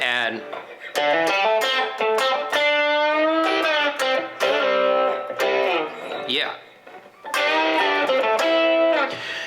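An electric guitar driven through a Nobels ODR-1 overdrive pedal into a preamp, with light spring reverb, plays sustained distorted notes and chords in loud bursts separated by short pauses.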